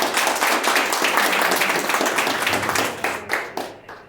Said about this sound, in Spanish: un aplauso a la distancia para Gilberta Mendoza.